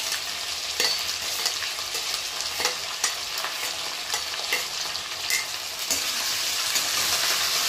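Potato, tomato and curry leaves frying for upma in a hot pan, a continuous close sizzle with occasional stirring scrapes and clicks, no talk.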